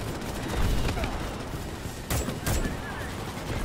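Sustained gunfire and explosions in the Starship Troopers: Extermination video game as bugs attack a base, a dense loud barrage with a couple of sharper bursts near the end.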